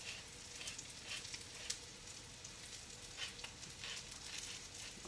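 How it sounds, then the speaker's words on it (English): Tuna patties frying in a pan, a soft steady sizzle with faint crackles and spatters, quiet and continuous with no talking. "I can smell those tuna patties cooking."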